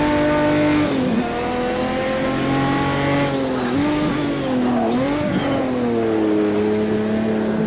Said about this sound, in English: Again, turbo kicking in as we go over the crest.